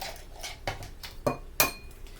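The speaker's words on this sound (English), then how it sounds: "so I'm just going to crack my eggs in a separate bowl really quick." Three large eggs cracked against the rim of a separate bowl: a handful of sharp, close knocks and clinks spaced under a second apart, the last two loudest, with faint shell and glass rattles between.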